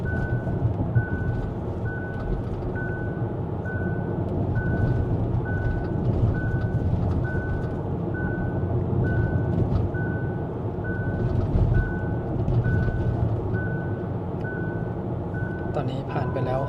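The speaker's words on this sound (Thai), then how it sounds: "ที่ประมาณ28วินาทีนะครับจะมีเสียงเตือนขึ้นมาพร้อมกับข้อความที่ให้เราจับพวงมาลัยนะครับ" A Hyundai Ioniq 5 hands-on-wheel warning chime, a steady series of short regular beeps repeating about every second over constant road and cabin noise while driving.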